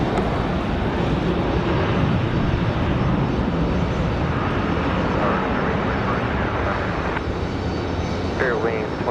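A CRJ-700 regional airliner arriving from Dulles and landing at Raleigh Durham, its engines a sustained, loud, even roar with faint rising whine traces near the end; speech is faintly present.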